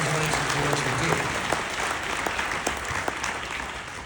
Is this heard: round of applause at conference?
yes